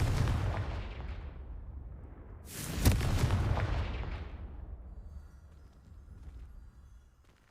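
Confringo blasting spell in a Harry Potter video game: a loud, sharp detonation followed by a long rumbling boom that slowly decays into quiet, trailing from an earlier fading blast.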